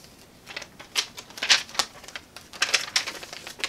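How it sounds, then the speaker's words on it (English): A heat transfer sheet is peeled warm off a heat-pressed shirt, giving a run of crisp, crackling tearing snaps in quick irregular bursts, close and fairly clear. "we're just gonna peel it just like this"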